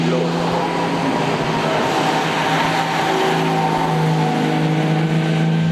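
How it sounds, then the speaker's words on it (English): A 1937 Delahaye 135S vintage racing car drives past at the Le Mans Classic 2010 race, its steady engine roar filling the soundscape, while a commentator talks over it. "there goes the 16 of Christian Traver, the Delahaye 135S from 1937"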